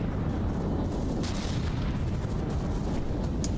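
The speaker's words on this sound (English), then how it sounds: "Oh yeah, the cannons are trying to target the cram shells." Cannons firing in the naval combat game From the Depths, a dense, continuous rumble of overlapping booms and bursts, steady and loud throughout with no talk.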